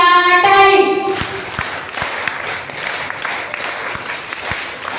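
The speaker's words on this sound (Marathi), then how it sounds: "चला एकदा यांच्यासाठी जोरदार आशा टाळी" Audience applause breaks out after a devotional song at a religious gathering near the Vaijnath Jyotirlinga temple, a dense burst of clapping that follows a sung note and carries steadily through the clip, fairly close and loud.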